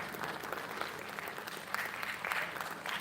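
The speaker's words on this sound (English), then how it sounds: "Huge round of applause to Dr. R.C. Hajari, please." Conference audience applauding for Dr. R.C. Hajari, a steady, fairly quiet wash of many hands clapping in a large hall, continuous for a few seconds with no voices on top.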